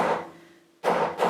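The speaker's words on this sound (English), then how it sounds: "I've got a carpenter's hammer, I've got my punch over my hole" Two close, solid carpenter's hammer blows on a metal punch driving a hole for a snap fastener, each a sharp thud with a short ringing tail.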